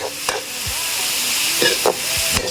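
Food stirred in a cooking pan over low sizzling heat, a spoon scraping and knocking against the metal a few times over a soft continuous hiss, close and without voices.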